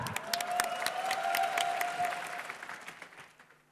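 Audience applause for a contestant at the Miss AC-DC 2004 pageant, a sustained wash of many hands clapping that swells and then gradually fades, with a faint tone running through the middle.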